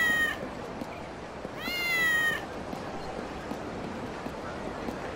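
Cat meowing in the PSP game Kurohyou 2, two short drawn-out meows, the second longer and louder, over a steady ambient game background with no talk.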